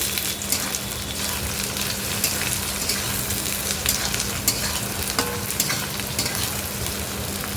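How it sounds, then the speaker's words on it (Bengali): Chopped capsicum and onions fry and get stirred in a pan, a steady close sizzle with scraping spoon strokes and small clinks throughout, no voices. "তো দিয়ে দেবো পেঁয়াজের ওপরে ক্যাপসিকাম কাটা। তো এটা একটু নাড়াচাড়া করে নেব পেঁয়াজের সঙ্গে।"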